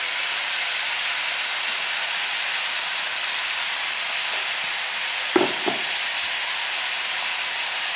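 Mutton and onions frying in a kadhai for Punjabi kadhai mutton make a constant, moderate hissing sizzle, broken once by a pair of sharp utensil clacks near the end.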